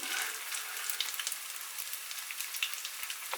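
Potato pancakes fry in hot fat two at a time, a steady close sizzle with crackling pops and no voices.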